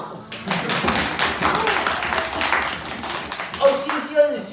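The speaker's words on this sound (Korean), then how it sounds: "이야 박수" A church congregation clapping together during a Sunday service, a fast run of sharp claps that continues for several seconds, with voices murmuring underneath and a brief vocal sound near the end.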